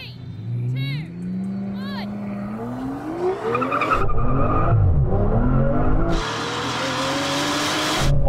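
Aston Martin Valkyrie, Vanquish and V12 Vantage launching from a manual drag-race start, with rising engine revs and tyre noise building into a loud, roaring acceleration, while people talk over it.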